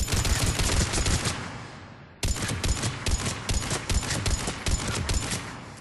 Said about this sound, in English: this weapon has amazing accuracy when fired slowly with the scope